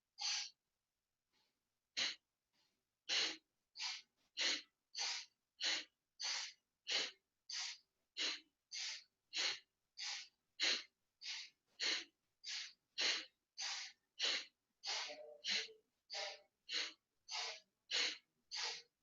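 Rhythmic forceful breaths during a Kundalini yoga session for pregnancy, about two dozen sharp, evenly spaced exhalations with a few softer ones at the start, close and clear with no talk.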